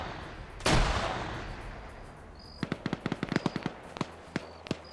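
Frag grenades go off in a competitive video game match, opening with one loud burst and then a rapid cluster of sharp pops and bangs that thin out into scattered shots, with no voices.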